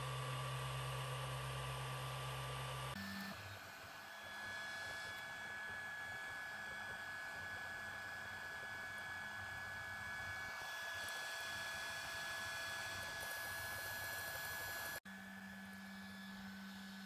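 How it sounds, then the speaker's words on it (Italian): Cooling fans of an Ender 3 3D printer fitted with a new Bigtreetech SKR Mini E3 V3 motherboard whir in a steady, even hum that shifts briefly partway through, close and continuous with no talking. "a parte le ventole la macchina sembra che sia molto più silenziosa rispetto a come era con la scheda madre originale"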